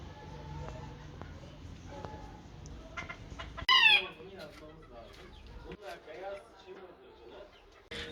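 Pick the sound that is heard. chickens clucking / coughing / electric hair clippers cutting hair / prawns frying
chickens clucking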